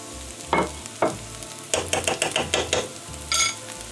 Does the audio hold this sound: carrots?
yes